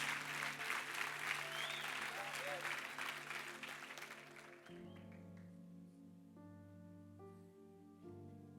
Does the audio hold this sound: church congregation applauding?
yes